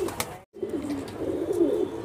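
A pigeon on a home rooftop gives a low, steady rolling coo, close and clear, broken by a brief silent gap, with faint background noise.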